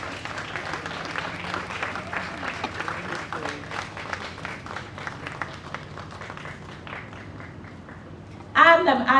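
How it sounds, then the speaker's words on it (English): Audience gives a nurse a round of applause and standing ovation at a vaccination launch event, dense rhythmic clapping that swells then slowly thins out, with voices mixed in and a louder burst near the end. "let us give Nurse Josephine another round of applause and a standing ovation"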